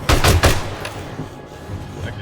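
Gunfire from a video game as enemies are shot: a quick cluster of sharp, loud shots near the start, followed by a few fainter pops and a low background rumble.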